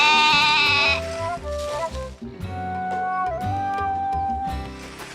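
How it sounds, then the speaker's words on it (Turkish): An animated cartoon goat bleats in a series of loud, wavering, nasal cries, repeated several times in close succession against a quiet background. "Sonra böyle meylemeye başladı."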